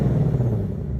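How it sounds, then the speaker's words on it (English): Engine of a 2024 Ford Mustang S650 holding a steady rev at about 2000 RPM, triggered remotely by key fob, a loud continuous low rumble throughout with no talking. "hold the lock and unlock button at the same time for 3 seconds, and it's going to rev to 2000 RPM"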